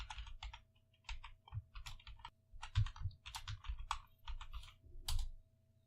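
Someone types a master password on a computer keyboard, a close, crisp run of rapid key clicks in short bursts separated by brief pauses, with no talking.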